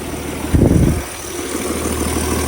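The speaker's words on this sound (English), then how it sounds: "That's just an exhaust leak." A 1962 Ford Falcon engine idles with an exhaust leak, a steady low rumble close by that swells briefly near the start and then settles back to an even, throbbing idle.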